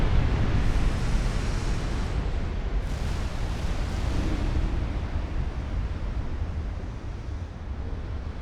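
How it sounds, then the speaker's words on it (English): Torpedo hits on warships in the naval game Ultimate Admiral Dreadnoughts, heard as a continuous heavy rumbling roar of explosions mixed with sea spray and wash, loud and sustained, with no speech. "We did get a torpedo hit on Linnet"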